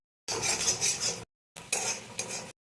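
Chow mein being stirred in a pan, two short bursts of metal utensil scraping and clattering against the pan separated by a brief silence, close and clear with no talking.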